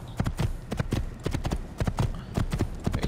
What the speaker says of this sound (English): Very stereotypical horse